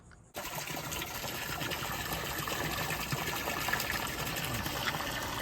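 Water pours steadily into a test tank for a DIY electric skiff boat, a continuous rushing gush that begins abruptly after a brief quiet moment and holds loud and even to the end.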